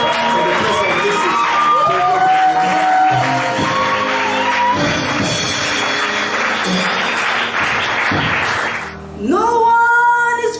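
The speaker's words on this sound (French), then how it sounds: "With a hand of acclamation, put your hands together." A church congregation claps and cheers loudly in a continuous roar with shouts and whoops, briefly dipping before swelling again.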